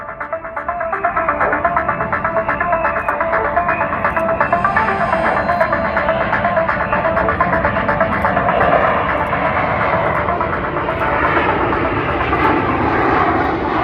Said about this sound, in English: So get ready for that afterburner noise again.